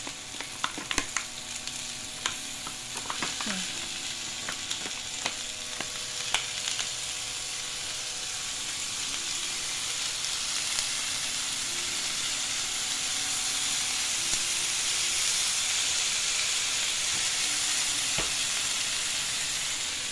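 Sliced banana frying in a pan, a steady sizzle and hiss with clinks and scrapes of a spatula stirring early on, the frying growing smoother and denser toward the end.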